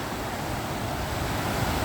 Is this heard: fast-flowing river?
yes